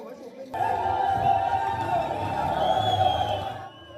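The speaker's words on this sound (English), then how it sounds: "with people on the streets clapping and cheering on as the fighters marched and drove into the city center" A street crowd in Bukavu cheering and clapping as fighters march and drive into the city center, a sustained mid-distance roar of voices with whoops rising after a quiet start and tapering at the end.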